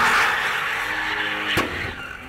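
BMW cars rev their engines hard and squeal their tires at an enthusiast meet in Ingushetia, a loud roaring, skidding wash punctuated by a sharp burst near the end, with no talk.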